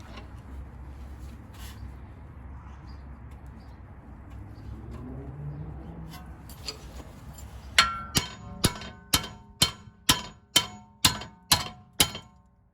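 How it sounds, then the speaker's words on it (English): Quiet background with a low hum and some faint cooing at first, then a series of about ten sharp metallic hammer strikes in steady rhythm on a rear brake part of a 2009 Honda Accord. "I think what I'm gonna do is try to hammer this out."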